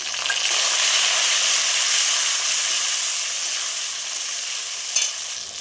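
Ginger and tomato hit hot oil in a pan, giving a loud, even hiss of frying with steady stirring underneath and a brief clink of utensil near the end.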